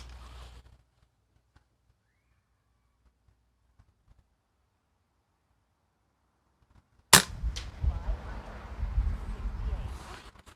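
An airgun fires one sharp, close shot after a long quiet stretch, followed by rustling handling noise and someone talking.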